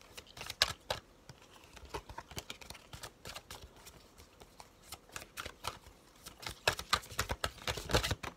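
A deck of oracle cards is shuffled by hand, producing close, quiet rapid riffles and taps in irregular bursts that grow busier toward the end.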